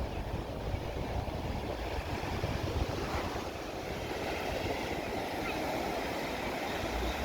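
Sea waves wash continuously onto the beach at Arish in the evening, a steady broad roar mixed with wind, with no talking over it.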